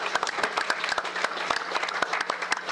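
Fans applaud at a weekly live show, a dense, lively burst of many people clapping with frequent crisp individual claps, fairly close and filling the room without speech.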